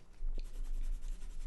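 Colored pencil scratching across paper in quick, soft strokes, close and fairly quiet, a steady run of faint rasps with no talking.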